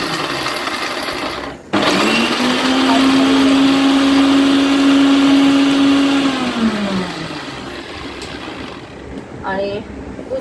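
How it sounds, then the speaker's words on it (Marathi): A mixer grinder grinds roasted, peeled peanuts, starting abruptly with a loud, steady motor whine that holds for several seconds and then winds down and fades out. "अच्छा, तर चला ही मिक्सर घेतलंय मी आणि शेंगदाणे घेतले बारीक करण्यासाठी."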